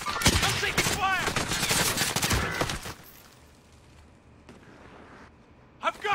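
Rapid gunfire bursts in Call of Duty: Warzone, loud and dense for about three seconds with a voice talking over it, then fading to quiet background before a brief final burst.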